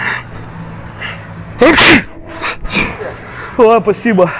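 A loud staged sneeze bursts out on an escalator as a prank, followed by a short gasp-like breath, with people talking nearby before and after.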